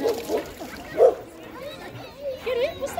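Dogs at an outdoor pool party for dogs, with a Vizsla and Dalmatians present, give a few short yips and barks amid splashing and people talking nearby.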